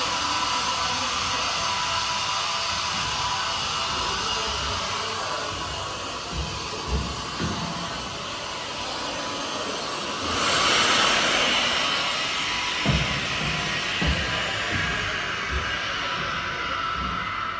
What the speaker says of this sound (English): then we can use the breathing pods to release the vacuum